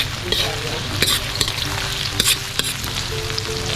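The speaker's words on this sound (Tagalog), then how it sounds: "Start na tayo manggisa mga kasolid. Unahin muna natin na sibuyas. Siyempre, isunod na rin natin ang bawang," Onion and garlic sautéing in a pan for a spicy beef shank dish, a loud close sizzle broken by sharp clanks and scrapes of a utensil stirring against the metal.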